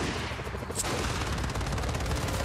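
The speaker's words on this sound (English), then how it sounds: "use the machine gun." Machine gun fire in the video game Just Cause 4 during an airport takeover: a dense, steady stream of rapid shots, loud and unbroken for the whole stretch, with no voices over it.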